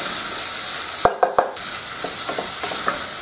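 Seasoned mango rib mixture stirred in a pan, a close, steady sizzle broken by a few sharp knocks and scrapes of the utensil against the pan, with no talking.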